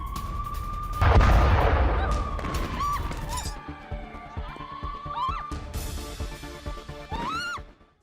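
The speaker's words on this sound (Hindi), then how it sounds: "इसी दौरान ये देखिए इमारत पर आकर बम गिरता।" A bomb strikes a building during an Israeli attack on Damascus, Syria: a heavy, loud blast with rumbling debris about a second in, followed by lingering crashing noise, with rising whistle-like tones and voices in the background.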